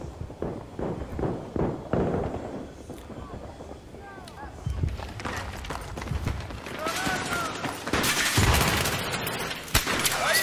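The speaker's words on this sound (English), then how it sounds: "teammate shooting at me again" Gunfire in the shooter game Battlefield 3 at Ziba Tower, rapid cracking shots and bursts throughout with game effects, while a player talks over it.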